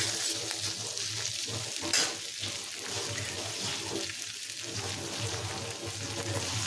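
Mixed winter vegetables sauté in a pan with a continuous close sizzle, overlaid by occasional stirring scrapes and a brief clatter near the two-second mark, and no talking.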